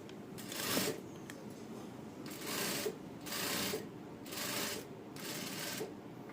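A sewing machine stitches a half-inch seam on a padded princess-cut blouse, running in several bursts of steady whirring separated by short pauses.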